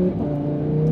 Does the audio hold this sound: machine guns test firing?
no